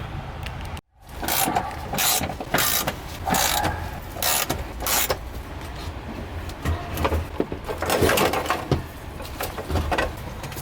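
Ratchet wrench loosening the six bolts holding a Visconti Stage 1 fuel basket on a round fuel tank, heard as repeated close clicking bursts with brief pauses and metallic handling between.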